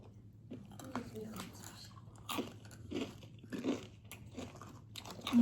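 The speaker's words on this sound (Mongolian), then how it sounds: "Шаржигнаад амар гоё дуурт юм байна." Someone bites into spicy chips, producing a series of crisp crunches and chewing sounds close to the microphone, with quiet talk heard between the bites.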